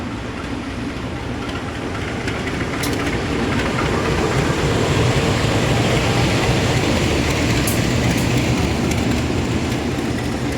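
A train rolls past nearby, a steady, loud rumble of wheels and rail noise that swells slightly and holds for about ten seconds, with no talking.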